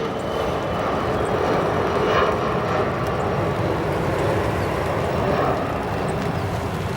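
An Icelandair Boeing 757 airliner at Chicago O'Hare Airport produces a steady, loud jet engine roar that holds evenly throughout, broad and rumbling with no voices over it.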